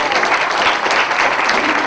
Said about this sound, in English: give the owner Dave a round of applause.